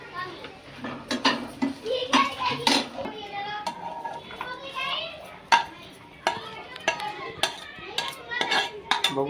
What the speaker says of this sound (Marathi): तर आपण आता ही काढून घेऊया प्लेटीमध्ये.